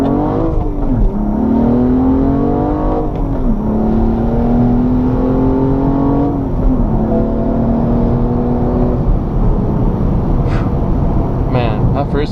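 A BMW E85 M235i engine revs hard and climbs in pitch, dropping briefly at each gear change before pulling up again, loud and close, with a voice partly over it.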